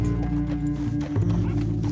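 Horse hooves clip-clop at a steady rhythm in the open-world Western video game Red Dead Redemption 2, fairly quiet beneath a low rumble of game sound, with no talking.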